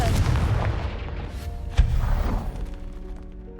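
A Confringo blasting spell detonates in Hogwarts Legacy, one sharp booming explosion with a rumbling tail amid other game effects, preceded by a short spoken incantation.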